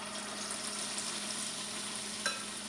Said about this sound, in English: you don't want the falafel to fry too quickly